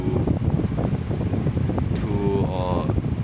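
Steady low rumbling wind noise from an electric fan blowing directly at the microphone, loud and continuous throughout, with a faint tonal whine near the end.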